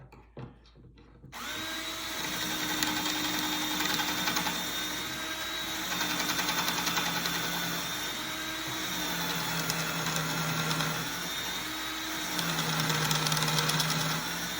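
A drill bit bores a pocket hole in wood through a Kreg pocket hole jig: a steady, loud whirring drone that runs nearly continuously for about thirteen seconds, its pitch shifting slightly as the bit bites, after a few short clicks at the start.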